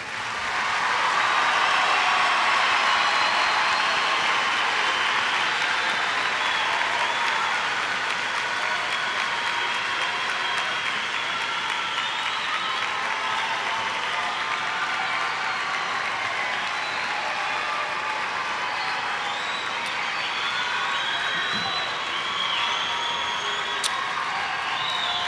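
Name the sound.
audience applause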